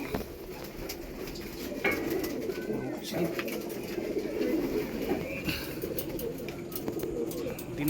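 Pigeons coo from a netted loft, soft repeated throaty calls close by over a steady murmur, with a voice talking at times in the background.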